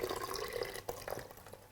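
Water is poured into a pot of soaked rice while making jollof, a soft, close trickle and splash with a brief sharp pouring burst partway through, quiet and alone.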